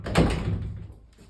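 A sliding double closet door is shut hard, producing one solid thump with a short rattle that fades over the following second, close and alone.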